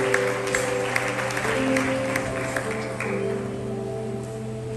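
A church congregation claps for a visiting pastor about to preach, a lively patter of hands over sustained organ or keyboard chords that play throughout.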